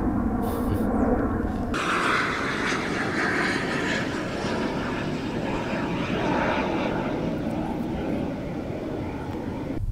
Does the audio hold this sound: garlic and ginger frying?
no